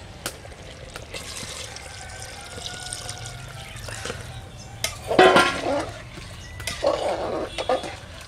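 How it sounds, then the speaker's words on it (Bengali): Water poured into browned mutton curry in a pressure cooker, a soft splashing pour rising in two bursts midway through, close and moderately loud over faint room noise, with no talk. "এখন জল দিয়ে দেবো।"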